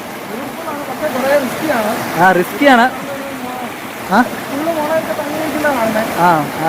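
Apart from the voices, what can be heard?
stream flowing during a stream hike near Ezharakkund Waterfalls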